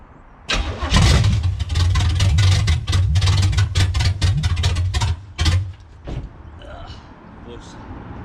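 A 1985 Pontiac Trans Am with a 5.7 engine, not run in seven years, cranks and catches with a loud rough start, a rapid train of chugging firing pulses over deep rumble for several seconds before it stumbles and dies back to quiet.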